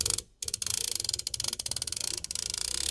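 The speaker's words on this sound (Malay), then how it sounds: "Yang paling aku suka bila pusing this laptop stand." A metal laptop stand with a built-in fan being rotated gives off a continuous run of small ratcheting clicks and creaks, a close, steady mechanical texture that carries on after one brief quiet gap.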